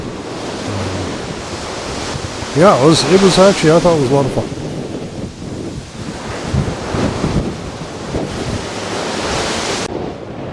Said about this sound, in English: the camera's getting wet from the waves hitting the spray up there